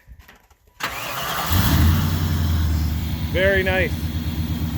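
A car engine cranks and fires up, then settles into a loud, steady running rumble close by, with brief talk over it.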